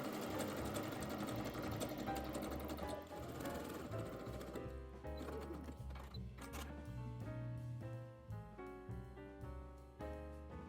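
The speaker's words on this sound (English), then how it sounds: "sew with a zigzag or a straight stitch along the edge, leaving a small gap open to feed through our elastic" A sewing machine runs a zigzag or straight stitch along the edge of an elastic casing on a knit dress, a fast, even mechanical chatter that continues steadily throughout.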